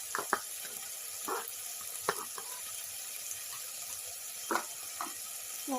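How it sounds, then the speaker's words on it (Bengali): Chicken sweet corn soup with spring onion being stirred in a pan, a soft wet bubbling bed broken by several sharp clinks and scrapes of a spoon against the pan, close and without talk. "এটা দিয়েও ভালো করে নাড়তে লাগবে।"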